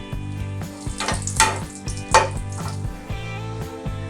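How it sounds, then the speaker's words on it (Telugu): Crushed almonds fry in a pan with a busy crackle, mixed with frequent scraping and clinking from stirring. The sound runs close and continuous, with a few louder sharp strokes, and no talk. "ఈ బాదం ఇలాగా కొంచెం లైట్గా ఇలాగ ఫ్రై అయ్యేటప్పుడు"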